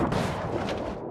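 Loud booming gunfire from a cartoon toy car animation, a short burst of blasts packed into about a second, close and harsh with no talking.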